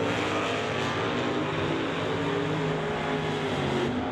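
Drag race between a 1996 Camaro and a GTI automatic car, a continuous loud engine roar at full throttle, steady and sustained throughout with no talk.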